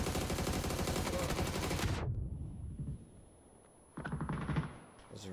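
Rapid automatic gunfire sprays in a Counter-Strike match, a loud dense burst for about two seconds that cuts off abruptly, followed by quieter game noise and a second short flurry of shots.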